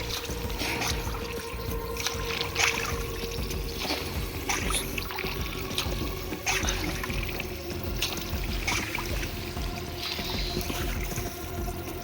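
A boat moves across reservoir water at Suvarnavathi dam in Chamarajanagar, giving a steady, continuous wash of engine and water noise that stays even throughout with no clear speech.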